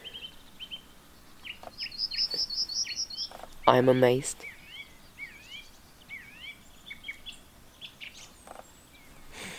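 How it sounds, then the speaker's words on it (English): Many birds sing at sunrise in a nature reserve, with a busy mix of high chirps, rapid trills and sweeping whistles near and far. A loud burst of calling stands out in the middle, and a voice speaks briefly. "here are so many birds."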